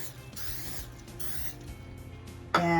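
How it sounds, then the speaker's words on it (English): Cooking oil sprayed onto a 15 by 10 inch baking tray in a few short hissing bursts, close and moderately quiet, ending with a brief louder clatter. "You take and spray some oil"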